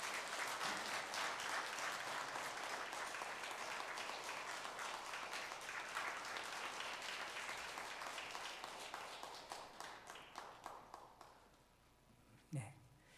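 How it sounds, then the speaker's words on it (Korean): A congregation at a Sunday church service applauds in a steady, full round of clapping that gradually thins into scattered claps and fades out, with a brief bump of sound near the end. "박수 한번 해주시기 바랍니다"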